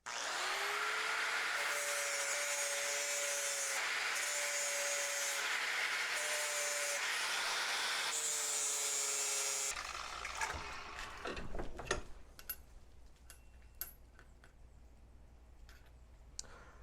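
Angle grinder fitted with an abrasive disc grinding the edges of a steel hitch part, a loud continuous whine for most of the stretch that cuts off abruptly, followed by quieter clanks and workshop handling noises.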